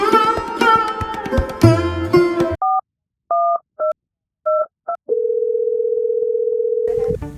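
A telephone being dialed: a series of short, separated keypad tones, then a steady continuous dial tone that sounds alone after an opening stretch of music.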